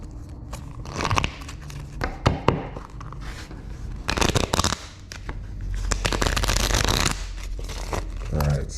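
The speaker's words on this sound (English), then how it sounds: "One more shuffle here." Tarot cards shuffled by hand in a few crisp riffling bursts, close and moderately loud, with speech around them.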